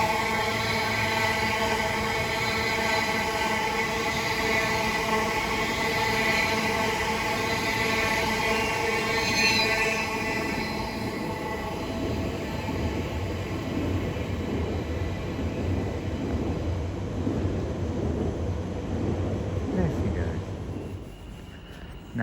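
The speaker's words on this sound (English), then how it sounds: "As 35037 now departs onwards to Shenfield." Class 35037 train pulling away from Stratford station on the Great Eastern Main Line toward Shenfield, a loud, steady traction hum and rumble with sustained tonal whine that slowly fades, with some talk over it.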